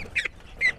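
Ducks squawking and quacking as they gather around feed at a small backyard mini zoo, two short nasal calls in quick succession, fairly close.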